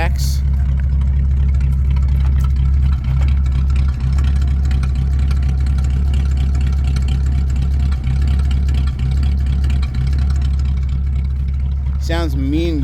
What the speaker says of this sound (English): Great, great running flathead V8 motor. Sounds great. It's got dual glass packs.